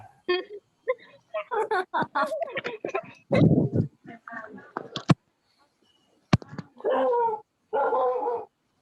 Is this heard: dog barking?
yes